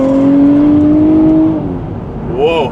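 A 2023 Nissan Z with an automatic gearbox accelerates hard, its engine droning loud and rising inside the cabin, then easing off, followed by a brief warbling tire chirp near the end.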